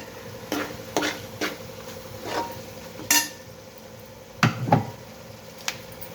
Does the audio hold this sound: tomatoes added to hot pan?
yes